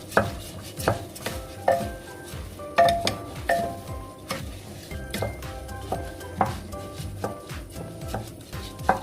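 Abalone innards and rice being stir-fried in sesame oil in a pot for Jeju-style abalone porridge, with a wide flat spatula knocking and scraping the pot in a rhythmic series over a soft sizzle.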